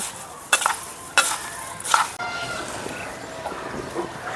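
Chickpeas are mixed by hand or spoon with chopped onion, coriander, mustard oil and salt for ghugni, making a few sharp close scraping and squelching bursts followed by quieter, softer rustling stirs, without speech.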